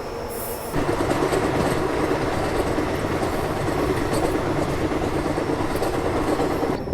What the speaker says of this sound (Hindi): अहमदनगर से निकलने के बाद ट्रेन बहुत ही शानदार कर्व से गुजरती है